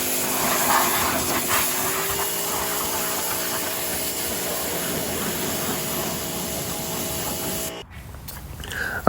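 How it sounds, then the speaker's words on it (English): An IK foam sprayer loaded with P&S Brake Buster hisses in a steady, close spray against car wheels during a mobile detailing job, then cuts off abruptly near the end. "coming in with the IK foam sprayer. I have PNS brake buster in here."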